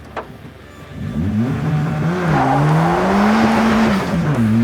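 An Ariel Nomad 2, a lightweight off-road car, accelerates hard, its engine note rising and swelling loud and close over nearly five seconds, with no talking.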